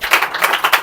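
Audience at a mobile repairing institute diploma ceremony claps in a short, close burst of several quick, rhythmic hand claps, loud and brief.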